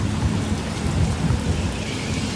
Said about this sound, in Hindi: आज यहाँ पे इतनी तूफानी बारिश हो रही है।